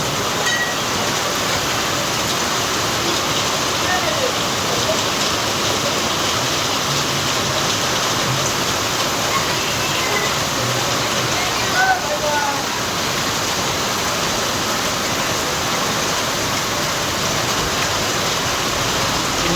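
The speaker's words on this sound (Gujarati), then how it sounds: "સારો વરસાદ પડી રહ્યો છે" Heavy rain falls on a highway in a steady, dense roar that holds even from start to finish, close and loud with no break.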